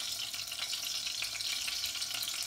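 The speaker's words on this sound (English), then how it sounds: "And then you fry this one with linen oil." Filipino turon, a banana spring-roll snack, frying in oil, giving a continuous bright sizzle with faint crackles, steady and close with no talk.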